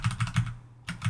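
A few quick keystrokes on a computer keyboard, close and clicky in a short rhythmic burst with a brief pause before the last taps; no one talks.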